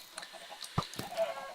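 Chickens in Minecraft give a few short, faint clucks at irregular intervals over quiet background, with one slightly louder cluck in the middle.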